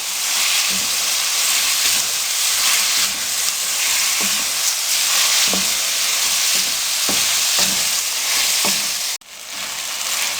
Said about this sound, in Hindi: अब इनको हम 5 से 7 मिनट के लिए अच्छे तरीके से फ्राई कर लेंगे।